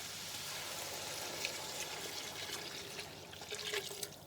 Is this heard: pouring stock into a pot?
yes